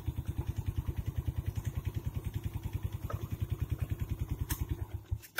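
A motorcycle engine idles steadily during a carburetor check, firing in an even, rapid putter of close, regular pulses, with a brief clatter near the end.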